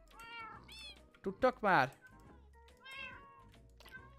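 Cats meow in the Minecraft video game, several high rising meows including a louder cluster near the middle, with a person talking over and between them.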